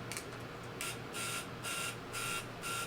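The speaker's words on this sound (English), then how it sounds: "unplug the buzzer just so I don't get that buzzing." An alarm relay buzzer sounding in repeated bursts of roughly half a second each, separated by short gaps, over a steady low electrical hum, close and clear with no talking.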